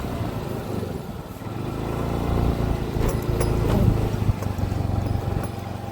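A motorcycle engine rumbles nearby, its low droning growing slightly louder midway, with faint traffic noise around it.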